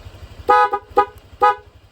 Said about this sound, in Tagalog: Pag pinindot mo ulit, tutuloy-uli yung busina.